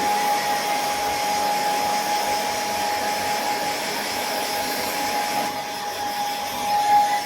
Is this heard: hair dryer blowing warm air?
yes